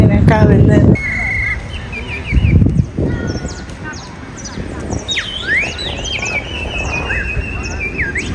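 A man from an Indigenous community imitates a variety of bird calls with his voice in the street, bright whistled chirps, trills and swooping tweets in quick succession, with brief talk and noise at the start.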